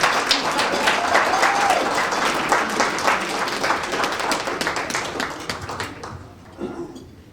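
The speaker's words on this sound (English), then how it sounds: "I think we all owe you a round of applause here for what we're doing for kids." A banquet audience at a USA Boxing event in 2023 claps in sustained, dense applause from many hands, gradually thinning and fading out toward the end.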